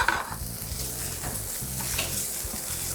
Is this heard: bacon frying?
yes